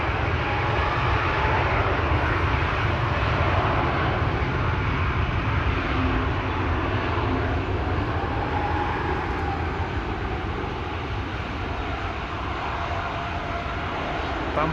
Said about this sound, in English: Meanwhile, a jet to Istanbul, an A321neo.